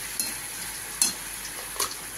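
Masala with ginger paste sautéing in a pan for a prawn curry, a low steady sizzle broken by three sharp scraping strokes of the spoon, close by and without talk.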